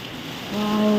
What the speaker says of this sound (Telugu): వర్షం అయితే ఫుల్ స్పీడ్ పడుతుంది